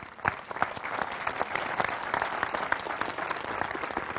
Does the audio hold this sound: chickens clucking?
no